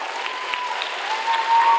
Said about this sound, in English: can we give a round of applause to Mrs. Taylor for all she's done?